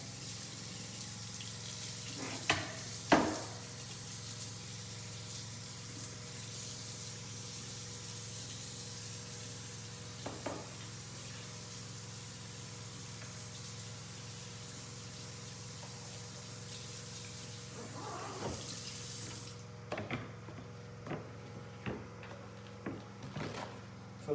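Running water spraying from a tap while rinsing a blued gun: a steady, moderately quiet hiss that runs for about twenty seconds, broken by a few clanks and knocks, then cuts off near the end, leaving scattered small handling taps.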